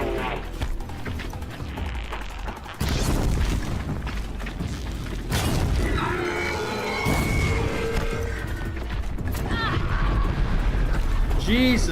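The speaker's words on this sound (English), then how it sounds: "that explosion is huge" A large explosion in the Horizon Zero Dawn video game, with deep booming rumble and crashing debris sustained for several seconds, loud and layered under ongoing game effects and talk.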